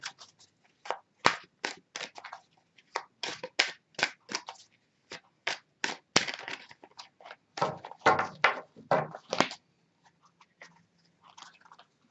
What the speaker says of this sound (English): I'll just shuffle a bit more.